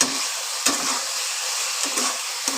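Okra and potato curry stir-fried in a pan, a steady broad sizzle with a few sharp spatula scrapes and knocks against the pan, close and fairly loud, no talk.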